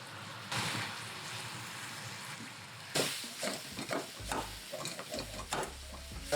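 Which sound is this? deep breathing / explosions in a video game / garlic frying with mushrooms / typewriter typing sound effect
garlic frying with mushrooms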